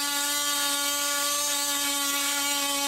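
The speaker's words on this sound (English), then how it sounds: "I'm using the oscillating tool to cut the fiberglass on the front and back of the panel away from the honeycomb in the middle of the panel" An oscillating multi-tool cuts fiberglass skins away from a Nidacore honeycomb panel core, giving a steady, loud high-pitched buzzing whine with strong harmonic tones that holds evenly throughout, with no talking.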